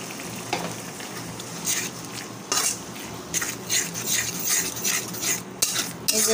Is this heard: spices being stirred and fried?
yes